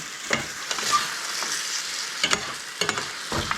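A spoon stirs and scrapes through a rice mixture in a pan for bringhe, an irregular series of soft scraping strokes over a faint sizzle, close and fairly quiet.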